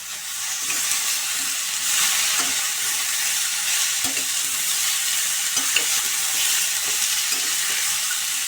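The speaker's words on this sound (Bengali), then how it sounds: "এগুলো একটু নেড়ে চেড়ে ভাজবো" Thin drumstick (sajna) stalks stir-fried in a pan for a light vegetarian curry, a bright continuous hissing sizzle with soft repeated stirring scrapes and taps throughout, close and without talk.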